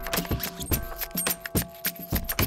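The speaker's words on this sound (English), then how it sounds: "That's just a flanger" A raw audio sample run through a flanger effect in a beat-making session, with sharp clicking hits in an irregular rhythm and a sweeping, metallic comb-like shimmer over the top.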